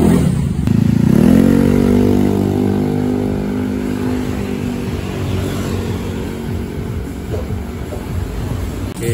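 A Honda Beat scooter engine fitted with a 26mm throttle body from a Vario 125 revs up loudly near the start, then holds a steady, throaty drone with a harmonic whine for several seconds; no talking.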